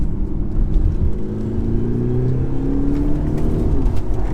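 A 2021 Audi SQ5 diesel accelerating hard, heard from inside the cabin as a loud, continuous low engine drone with rising tones as revs climb, steady road noise throughout.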